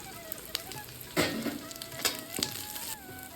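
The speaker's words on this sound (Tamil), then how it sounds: "இதை லைட்டாக வதக்கினா போதும்" Ginger, green chili and curry leaves sautéing lightly in oil in a pan, a soft, close sizzle with a few scattered stirring knocks and scrapes, quiet and without talk.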